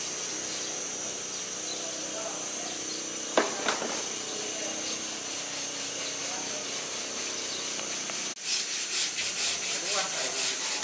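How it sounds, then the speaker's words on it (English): Hand sanding and smoothing on a boat deck during a refit ahead of a gloss top coat, with continuous rubbing and scraping, occasional knocks and a rhythmic scrubbing burst near the end, moderately close under a steady background hiss. "whole team continue to smooth and sand."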